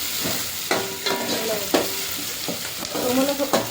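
Tomatoes and coriander fry for sambar with a loud, close sizzle, broken by several sharp stirring scrapes of a spoon against the pan.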